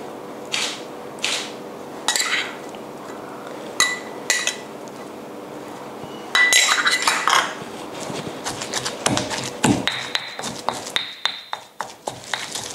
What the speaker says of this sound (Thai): ตอนนี้ก็เราก็จะเอาตัวปลาเนี่ยลงไปคลุกด้วยนะคะ